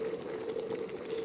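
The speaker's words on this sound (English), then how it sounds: "so I'm going to turn the kettle off." An electric kettle at a rolling boil gives off a steady, fairly quiet rushing bubble and hiss, continuous and unchanging with no other sounds.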